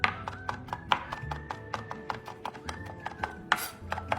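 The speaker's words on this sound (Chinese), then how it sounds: "这是泡软后虾米，沥干水分后再剁碎" A knife chops soaked, drained dried shrimp on a board in a quick, regular run of crisp knocks, over soft background music.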